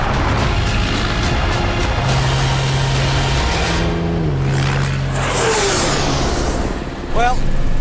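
A record-setting truck on Goodyear tyres accelerates away at speed, a loud sustained engine roar with shifting pitch under strong wind noise, while someone talks over it and the sound thins as it pulls into the distance.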